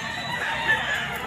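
Roosters at Grotto Pet Market, a Sunday market, crow and cluck in a brief dense burst over steady crowd noise.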